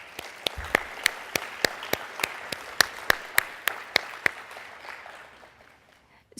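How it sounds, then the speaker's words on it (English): Applause at a 2018 Acceleration Academy graduation ceremony, a smaller crowd with distinct sharp claps standing out in a regular beat over softer clapping, fading toward the end. "I think we should extend a round of applause"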